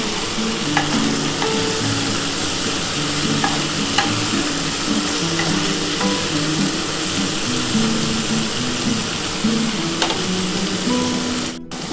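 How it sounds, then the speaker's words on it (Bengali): Yardlong beans, potato and onion fry loudly in a pan and are stirred, giving a steady close sizzle broken by repeated scrapes and clinks of a spatula, with no voices. "বরবটি, আলু আর পেঁয়াজটা কিন্তু মোটামুটি ভাজা হয়ে এসছে।"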